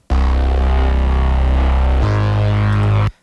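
A future bass synth bass built from three layers playing together, loud and sustained, holding one deep buzzing note before shifting to a lower one about two seconds in, with no voices.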